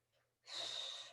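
A single forceful breath exhaled through the mouth during a squat thruster, a short close airy rush after a faint inhale.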